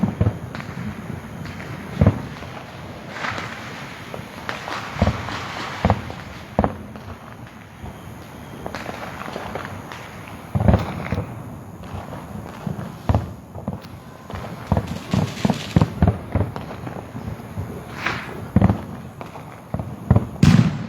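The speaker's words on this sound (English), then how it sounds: "Out here watching fireworks." Fourth of July fireworks burst repeatedly through the night, sharp booms and crackles spaced irregularly, some louder and closer, others distant, with a few voices faintly audible between blasts.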